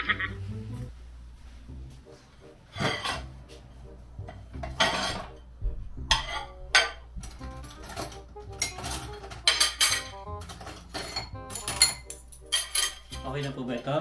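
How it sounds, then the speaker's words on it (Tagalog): Plates and spoons being gathered and laid out for a meal in a home kitchen, with irregular bright clinks and clatters of ceramic and metal repeating close by over low background murmur. "Opo ma'am, kukuha na po ako ng mga plato at kutsara."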